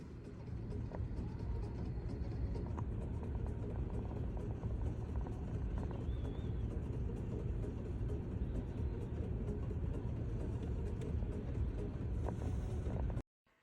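A New Holland 70/60 tractor working a soy field, heard as a steady, loud, unbroken engine and wind rumble that ends abruptly.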